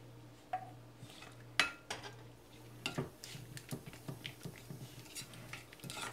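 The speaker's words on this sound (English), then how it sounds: "add the milk and sugar and vanilla slowly. Just continuously mix. Keep mixing it." A utensil stirs melting chocolate with milk, sugar and vanilla in a pot, making quiet, irregular scrapes and clinks against the side, with a few sharper knocks early and a steady soft ticking rhythm later.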